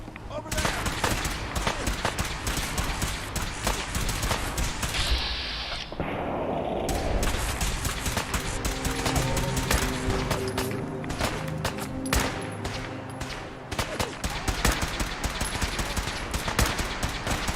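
Rapid gunfire from the video game Fallout 4, including a sniper's shots, cracks loud and dense throughout, with bursts that sound like automatic weapons layered together and a voice speaking over the shooting.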